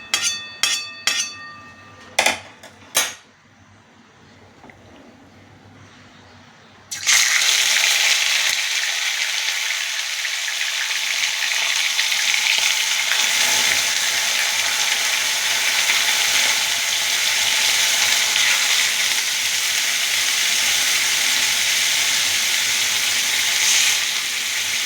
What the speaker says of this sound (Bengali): একটু ভাজা ভাজা হয়ে গেলে তারপরে মাছটা দিলাম। দেখুন আমার ফোড়নটা হয়ে গেছে। এবার আমি মাছটা দিয়ে দেবো।